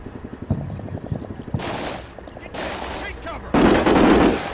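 Gunfire in the military strategy game Combat Mission Shock Force 2, with a rapid stuttering burst of machine-gun fire followed by several loud sustained roaring volleys, the last one the loudest.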